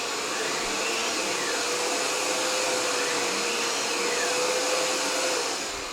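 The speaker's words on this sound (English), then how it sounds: "It's starting and stopping the brush roller right there." A Miele U1 upright vacuum cleaner hums with a steady, loud motor whine while its brush roller spins up and winds down, with no talking.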